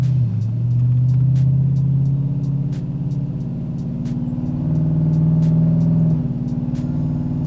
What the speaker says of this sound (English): let's go ahead on and pull this thing into gear. We'll start driving it.